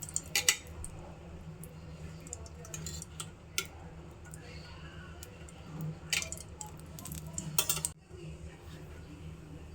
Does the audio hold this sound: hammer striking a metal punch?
no